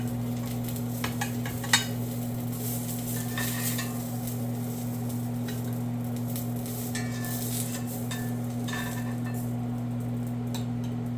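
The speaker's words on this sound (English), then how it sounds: "Sear on the onion." Onion searing in a pan with grapeseed oil, a steady sizzle with occasional utensil scrapes and clinks, under a constant low hum.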